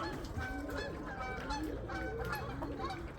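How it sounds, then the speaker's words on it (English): Several geese flying toward a river honk repeatedly in an irregular chorus, their calls overlapping at a moderate distance with no other sounds. "flying with the geese, going back to the river for the night"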